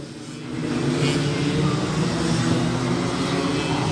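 Racing karts in a Tag R class final on a kart circuit, a steady, loud blended engine drone from several karts close together, with no clear speech.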